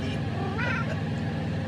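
A cat meows once, a short close cry over steady low background noise.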